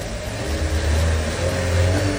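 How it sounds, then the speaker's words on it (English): Car engine starting and running steadily after a fault with high engine temperature and failure to start, a close, continuous low rumble with a faint revving rise and no talk over it. "Look, the car starts now."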